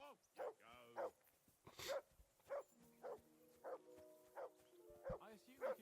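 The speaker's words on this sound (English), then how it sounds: "Shut that bloody dog up." A dog barks repeatedly in the medieval role-playing game Kingdom Come: Deliverance II, a steady series of sharp, evenly spaced barks at moderate distance, with character voices talking over and between them.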